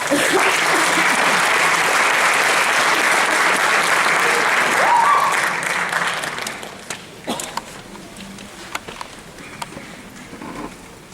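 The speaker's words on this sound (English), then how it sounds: "So please give a round of applause to Mr. James Baugh." An audience at a school speech night applauds a speaker with loud, dense clapping that fades after about six seconds into scattered claps and light murmuring.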